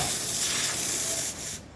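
A steady, loud steam hiss pours continuously from the steam wand of a freshly serviced Rocket espresso machine, then drops off abruptly near the end.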